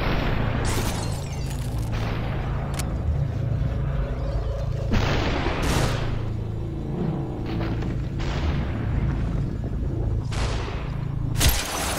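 Repeated gunshots from the slow-motion shooter video game SuperHot, several sharp bangs spread across the stretch over a steady low game hum, loud and close, with no talk.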